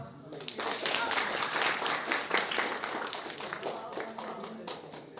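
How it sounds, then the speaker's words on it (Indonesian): A stand-up comedy crowd in Aceh breaks into applause, a full burst of many hands that rises quickly, holds steady and then tapers, with some voices mixed in. "Tepuk tangan dong."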